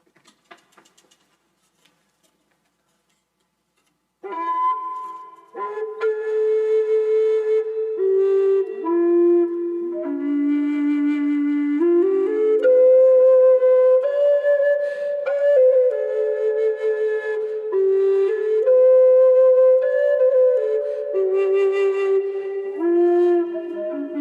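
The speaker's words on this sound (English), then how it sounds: "They're both D Native American style flutes." A bass D Native American style flute made by Pat Heron of Arizona plays a slow, breathy melody of sustained, gliding low notes, starting after a few seconds of near silence and continuing clear and close.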